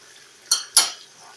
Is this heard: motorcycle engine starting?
no